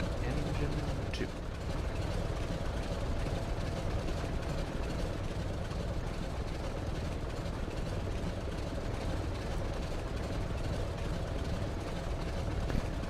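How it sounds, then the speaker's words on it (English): Second radial engine of a Douglas C-47 Skytrain spinning up in a flight simulator, a continuous low droning roar that stays fairly even throughout, with someone speaking over it. "And now we will start engine 2."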